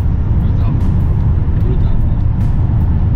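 A BMW M6 diesel car on a test drive gives a loud, steady engine and road rumble from inside the cabin, continuous throughout with no clear speech.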